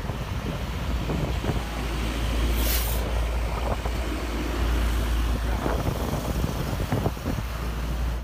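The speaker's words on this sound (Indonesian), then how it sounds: "Mobil truk tangki." A tank truck drives by outdoors, a steady engine rumble with wind buffeting the microphone and a brief hiss like an air brake partway through.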